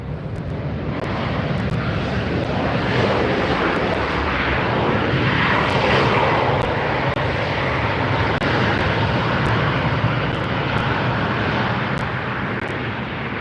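An Alaska Airlines jet airliner passes on the runway at LAX at sunset, a loud, steady broadband jet roar that holds for the whole stretch with no voices.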